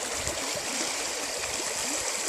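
Creek water bubbles and rushes in a steady, unbroken wash of noise, close and fairly loud, with no voices.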